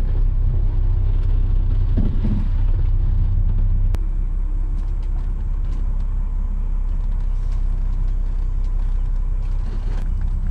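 An RV rolls off the road onto grass, its engine rumbling low and steady throughout with a brief clunk near the start and a sharp knock partway through, no voices over it.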